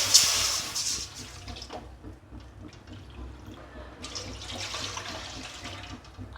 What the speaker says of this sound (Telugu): ఇప్పుడు ఇదే కడాయిలో మనం రవ్వ తీసుకున్న కప్పుతోనే రెండు కప్పుల నీళ్లు పోసుకోవాలి